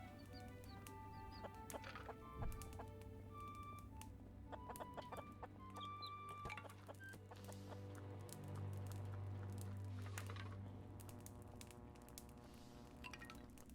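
Baby chickens cluck and peep steadily in the Clanfolk video game, a dense chorus of small fowl calls with occasional rooster-like notes layered over a continuous low game hum, with no talking.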